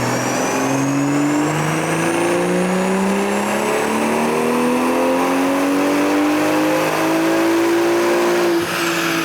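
A tuned BMW M340i running JB4 Map 3 with a back-end flash revs hard on a dyno, its engine note climbing steadily through the gears in one loud, continuous pull with no talk over it.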